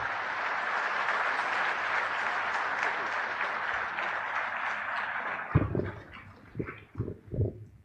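Steady, dense audience applause fills a lecture hall at a talk in Mangaluru, holding evenly for several seconds before breaking into a few scattered, louder claps and thumps near the end.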